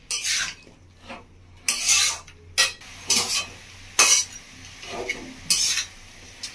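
Masala spice paste being stirred and fried in a pan with a spoon, about seven rhythmic scraping strokes separated by short pauses, close and clear over a quiet background.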